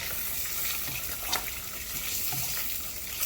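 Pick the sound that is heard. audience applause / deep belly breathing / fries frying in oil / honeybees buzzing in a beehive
fries frying in oil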